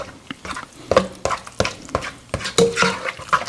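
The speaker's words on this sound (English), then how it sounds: "I'm just getting this nice and hot as I blend my cheeses in there" A spoon stirring cheeses together in a hot pan, with repeated scraping and knocking strokes against the pan, close and fairly loud, with a faint sizzle underneath.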